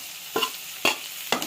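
Curry leaves frying in oil in a pan, with three quick, sharp stirring scrapes over a faint sizzle.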